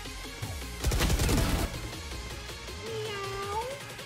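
A voice imitates a cat's meow, a drawn-out nasal cry rising and falling near the end, following a burst of rapid gunfire from a Valorant match.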